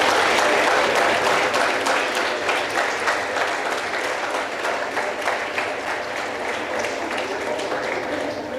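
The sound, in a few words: applause for the boys' school team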